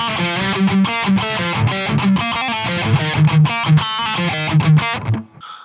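An electric guitar played through an Ibanez TS Mini overdrive boosting a Joyo Zombie 2 distortion pedal, a loud saturated riff of chugging palm-muted notes and sustained chords, ending with a quick fade and a small noise.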